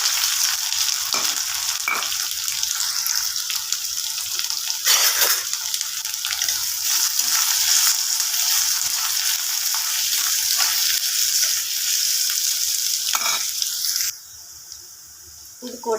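Oil sizzling in a pan as chillies, onion and chana dal fry for a thandi keerai poriyal, a steady bright hiss with a few clattering stirs, the sizzle dropping off sharply near the end.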